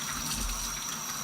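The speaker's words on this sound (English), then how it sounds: "And I rinse them out, get all the old leaves off of it." Running tap water splashes steadily as zucchini are rinsed under it, a brief, close, continuous gush.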